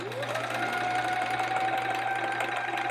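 A sewing machine runs continuously while stitching a quilt seam on a chevron quilt, its motor whirring up to a steady hum with a rapid needle rattle, close and constant with no talking.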